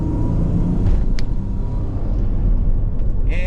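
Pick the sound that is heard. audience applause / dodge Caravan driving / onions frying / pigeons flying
dodge Caravan driving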